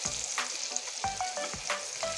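Potato pieces sizzle and fry in a kadai for a thin chicken curry, a steady close crackle with several sharp clinks of a spatula stirring against the pan.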